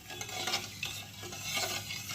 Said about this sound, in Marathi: आता चांगली उकळ आणायची ढवळत राहायचं